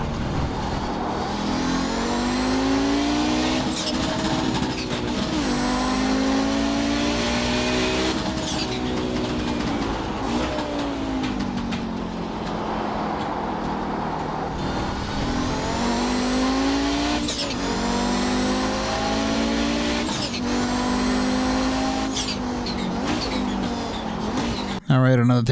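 An Audi 90 GTO race car in the iRacing video game lap roars with engine note climbing and dropping repeatedly through gear changes, loud and continuous, with a brief burst at the very end.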